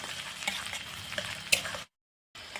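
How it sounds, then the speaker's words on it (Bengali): Ginger, garlic and chili frying in hot oil, a close continuous sizzle with light crackling and a sharp pop, cut by a brief silent gap near the end. "আদা রসুন একটু ভাজতে নিলাম"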